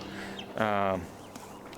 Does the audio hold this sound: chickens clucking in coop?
yes